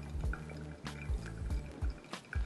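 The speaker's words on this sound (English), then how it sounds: "I'm pretty much pouring as heavy as this kettle's gonna let me" Hot water pours heavily from a kettle onto ground Colombia Aponte Village coffee in a Kalita dripper, a close, steady liquid stream with soft rhythmic gurgles and drips.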